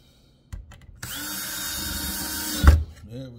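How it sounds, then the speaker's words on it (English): A power drill drives screws into a repurposed pallet wood shelf, starting with a brief burst and then a sustained steady whir that ends with a heavy thump and clunk, loud and close. "And we're gonna put some screws in."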